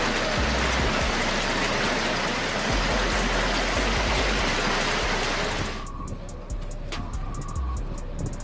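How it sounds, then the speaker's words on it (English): Dense, heavy pattering of large hail pours down continuously, hammering a surface in Istanbul, then thins abruptly into scattered, separate impacts near the end. "Large hail occurred in KY, Istanbul"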